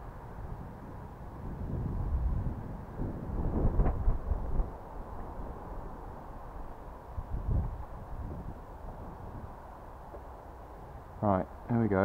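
Outdoor wind buffets the microphone in gusty low rumbles, rising and falling at moderate level, with a brief whirring toy rubber band biplane propeller near the end.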